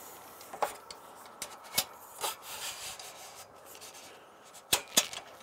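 Parts of a saw stand being shifted side to side into place, producing scattered scraping and rubbing knocks with a few sharper clicks near the end, close up and fairly quiet.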